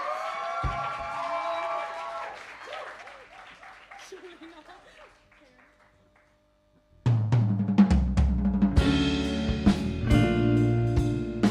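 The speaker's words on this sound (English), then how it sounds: "give a massive round of applause" A live audience at The Bedford claps and cheers in a loud, dense burst that follows a stretch of talking and a brief hush, with music mixed in.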